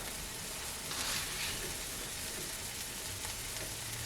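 Rice cooks in a pot with a steady, close sizzle and crackle, a soft rain-like frying hiss with a brief stirring swell.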